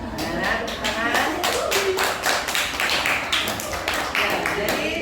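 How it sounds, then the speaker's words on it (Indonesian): Children clap their hands together in a classroom at the close of a group presentation, a steady patter of many small hands rising and falling over several seconds with voices mixed in. "Ya, anak-anak tepuk tangan."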